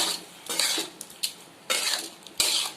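Pointed gourd stirred in a pan with sugar and green chillies, several short bursts of a metal spatula scraping and clattering against the pan, with a faint sizzle between strokes and no talking.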